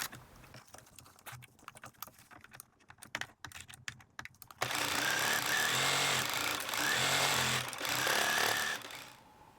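A sewing machine stitches a zipper onto lined fabric for a small gingham pouch, a near, loud and steady mechanical whir that runs alone through the second half after a stretch of quieter clicks and handling.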